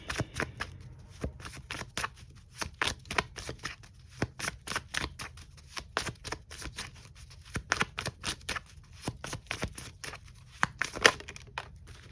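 Rapid, crisp riffling of playing cards repeating in steady bursts for several seconds, close and fairly quiet, with no voices.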